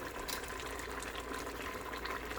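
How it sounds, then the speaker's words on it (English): A pot of wine and rum mixture for a Jamaican-style Christmas rum cake comes to a boil, giving a faint, steady bubbling hiss throughout with no talking. "So right now it comes to a boil."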